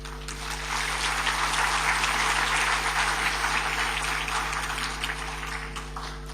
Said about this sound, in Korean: 우리 나오실 때 우리 박수로 모시도록 하겠습니다